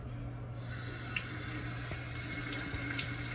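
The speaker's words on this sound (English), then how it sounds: "we have to wash our hands one last time" A tap runs steadily into a sink while hands are washed with soap, a continuous close water hiss with faint rubbing.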